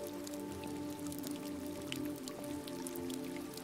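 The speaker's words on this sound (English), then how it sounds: "I love the sound of the rain right here." Rain falling on a bridge and into the water below in the video game Detroit: Become Human, a steady, even patter of drops with a soft hiss underneath, continuous and moderately quiet.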